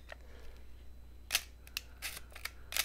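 A few sharp mechanical film camera shutter clicks, spaced unevenly over a quiet room hum, crisp and close.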